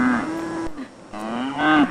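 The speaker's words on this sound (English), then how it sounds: "There are over 100 cows on the farm" Dairy cows moo on a farm in France, giving a close, loud, drawn-out low call that dips, then rises again into a second strained moo, with no talking.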